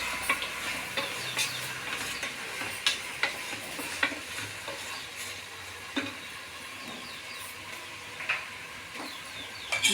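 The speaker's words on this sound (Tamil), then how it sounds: "இந்த இஞ்சி பூண்டு பேஸ்ட் அரைச்சி வச்சுருக்கேன், அதை போட்டுக்கலாம். நல்லா வதங்கும்." Ginger garlic paste frying in a pan for chicken biryani, stirred with a spatula: a steady sizzle with repeated scraping clicks and taps, close and moderately loud, with no voices.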